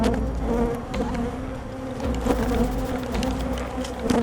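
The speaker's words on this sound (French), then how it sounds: "tu pourrais croire que ces abeilles volent dans ta chambre" A swarm of bees buzzes loudly and continuously, a dense insect drone that swells and dips slightly without pause, filling the whole clip with no voices.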